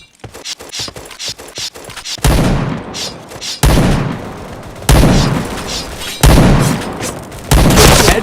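Gunfire in a shooter video game: a run of quick light clicks, then four or five loud, booming bursts of shots spaced about a second apart, close and sharp, with no talking.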